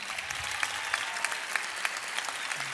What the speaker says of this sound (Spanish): renovamos el aplauso para ellos